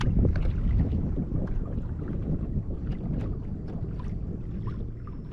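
A Watersnake electric trolling motor on a homemade kayak mount runs steadily during a steering test, a constant close hum and churn with wind and water noise and no talking.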